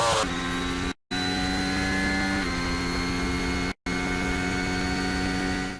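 A modern Formula 1 car engine drones loudly and steadily with a high, harmonic-rich whine that holds almost level, broken by two abrupt gaps of silence.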